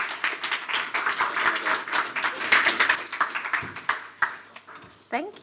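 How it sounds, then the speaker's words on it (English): A small crowd at a no-code meetup gathering claps for a speaker, uneven close-by clapping with individual hand claps distinct, mixed with some voices and fading near the end. "can we give Frances a big round of applause?"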